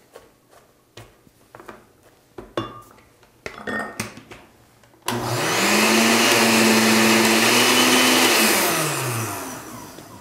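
Kitchen blender chopping red onion for green chutney: a few clinks and knocks of utensils first, then the motor kicks in loud and close, whining steadily with a slight pitch dip before spinning down.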